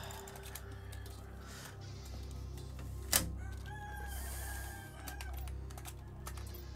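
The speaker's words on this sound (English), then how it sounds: "We get to all be equally annoyed by the roosters." Roosters crow in the background, faint and distant, over a low steady hum and scattered keyboard-like clicks.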